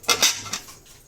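Flattened rice (poha), half a kilo, stirred as it roasts in a pan until reddish, giving a couple of quick close scraping rustles of the stirring utensil against the pan that fade within a second.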